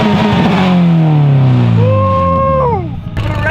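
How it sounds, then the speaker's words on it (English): Subaru car engine revving hard, a loud nearby rise and fall in pitch ending in an abrupt drop, with a high whine overhead. "Yo, give us a rev, Kevin."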